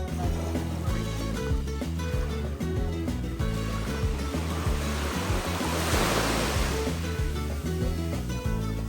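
Sea waves and wind along the Saint Martin coast make a loud, continuous roar of surf and gusting air, with a brighter wash of breaking water in the middle, no voices.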